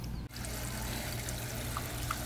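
Fresh water poured into a dog's water bowl outdoors in a backyard, a steady close trickle and splash running continuously after a brief gap at the start.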